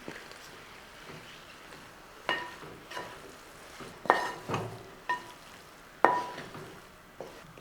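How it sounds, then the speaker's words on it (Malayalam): Kerala-style aviyal with sour curd is stirred in a pan: quiet scraping and a few sharp spoon-on-metal clinks at irregular intervals over a faint sizzle. "നന്നായിട്ടൊന്ന് ഇളക്കി."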